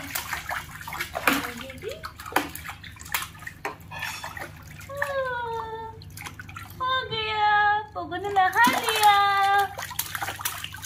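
A child's hands being washed with water at bath time, with running and sloshing water and drips throughout, a voice and someone talking close by.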